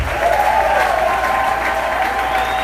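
A church congregation applauds steadily and cheers in praise of the Lord, dense continuous clapping with crowd voices mixed in, loud and sustained throughout.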